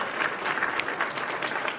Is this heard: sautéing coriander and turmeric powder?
no